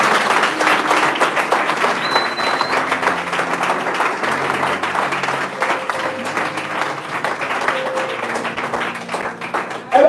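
A church congregation at a revival weekend in Franceville applauding and cheering, sustained close clapping from many hands with shouts, whistles and voices rising through it.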